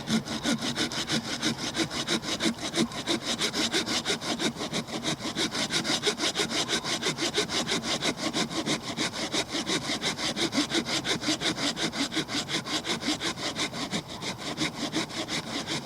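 A Laplander folding saw cuts back and forth through damp wood in a steady, close, continuous rhythm of rasping strokes with no speech.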